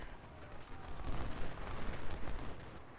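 Dense, continuous battlefield gunfire from the Ultimate General: Civil War strategy game, with rolling volleys and booms of Civil War muskets and artillery swelling and easing throughout, loud and alone.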